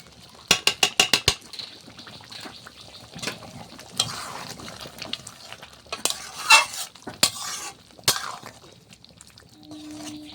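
Butter chicken with fresh cream and a spoonful of butter being stirred in a pan, a quick run of sharp spoon taps against the pan followed by softer scraping, light sizzling and a few more clinks.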